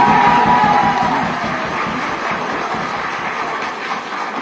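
Lawyers clapping in a Bangladesh courtroom after a death sentence is pronounced, a dense, steady wash of applause from a crowd of hands, loudest at the start and holding without pause.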